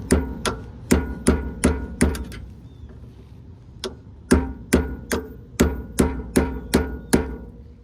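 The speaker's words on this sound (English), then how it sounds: "I'm going to use my little pry bar here with my hammer" A hammer taps a small pry bar against the rear hub of a 2001 Honda Accord, sharp metallic strikes in quick bursts of four or five, a short pause, then another steady run of evenly spaced blows, close and clear.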